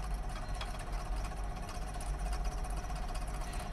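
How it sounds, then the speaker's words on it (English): Olive mill leaf remover, its internal axial fan blowing a strong airflow to strip leaves and twigs from olives, producing a steady, loud mechanical hum and rushing whir with a low engine-like drone throughout. "An axial fan inside the machine creates a strong airflow that separates leaves and small twigs from the olives."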